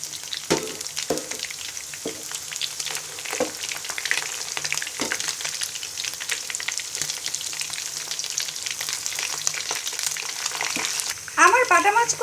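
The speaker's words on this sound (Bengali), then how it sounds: "এবার বাটা মাছগুলোকে গোল্ডেন ব্রাউন কালার করে ভেজে নিব" Bata fish sizzle steadily in hot oil while frying to golden brown for a Bengali dopeaji, with a constant close crackle and occasional clinks from turning the pieces.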